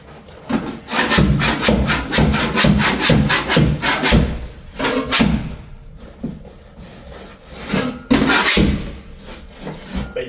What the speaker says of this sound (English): There is this method using a floor scraper